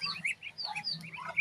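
High, thin peeping calls repeat in quick overlapping bursts, small birds chirping close by over a low steady background hum.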